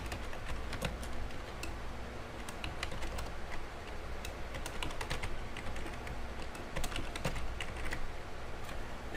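Keys clatter on a computer keyboard as a password is typed, a close run of quick irregular taps with no talk.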